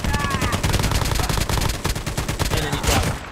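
Rapid automatic gunfire in COD Mobile, a dense stream of sharp shots rattling almost without pause, loud and close, with some overlapping bursts and faint game chatter beneath.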